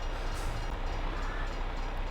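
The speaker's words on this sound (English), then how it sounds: "that train does come through here before the barricades come down" A train rolls past in Farming Simulator 22 near a rail crossing with barricades, a steady, loud, continuous rumble filling the whole stretch without pause.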